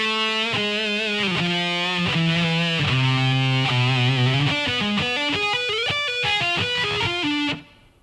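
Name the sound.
distorted electric guitar playing a lick slowly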